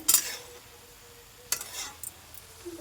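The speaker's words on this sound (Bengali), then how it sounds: "এটা এখন নেড়ে দিতে হবে, ওটাকে এটাকে ভালোভাবে এখন ভাজতে হবে" Banana flower fries in a pan while a utensil stirs it, giving a couple of brief scraping clinks over a soft, steady sizzle, close and fairly quiet.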